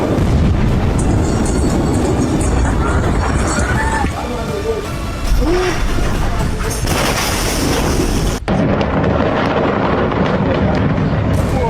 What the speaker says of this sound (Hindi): आखिर ये धमाका था किसका? क्या कोई बम फटा?